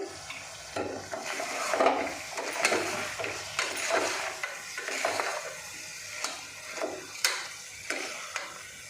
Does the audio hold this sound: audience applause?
no